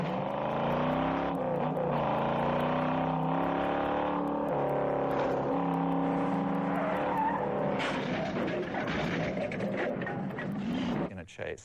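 Cars skid through a film car chase, tires squealing in long sliding tones over continuous roaring engines, loud and sustained with no voices.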